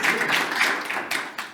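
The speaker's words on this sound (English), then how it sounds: "I will give a good applause to" Audience applause at an energy conference on regional energy markets, a dense burst of clapping that fades in waves over about a second and a half, with a few late isolated claps.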